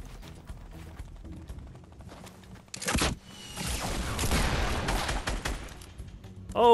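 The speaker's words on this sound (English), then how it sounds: "Oh, someone's trying to snipe me." Several loud sharp rifle cracks ring out in a Fortnite match, followed by a longer burst of noisy gunfire and rumble, after quieter ticking footsteps and game sounds.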